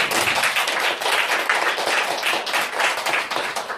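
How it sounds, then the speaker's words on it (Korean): A seated audience of trainees at a Korean lecture claps together in a dense, steady round of applause, close and continuous for several seconds with no talking. "저 말이 맞다라고 생각하면 박수 한번 쳐보세요."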